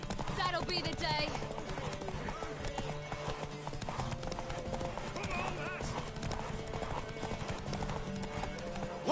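Horse hooves clip-clop in a steady rhythm in the Witcher 3 video game, close and clear, with a whinny among them and game voices talking over the hoofbeats.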